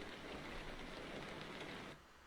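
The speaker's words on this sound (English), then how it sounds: "Raining." Steady rain falling in the Euro Truck Simulator 2 driving game, a continuous hiss of drops on the truck that cuts down abruptly near the end.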